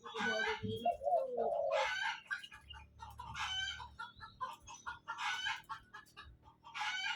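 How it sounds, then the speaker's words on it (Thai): A chicken clucks in a series of sharp, regularly spaced bursts, close and fairly loud, with a brief throaty squawk at the start. "ไก่ก็กระตกกระตากนะครับ"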